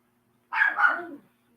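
A small pet dog named Hunter gives a short burst of two or three quick, close barks, then falls quiet; no one talks over it.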